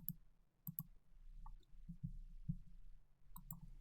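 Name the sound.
computer mouse click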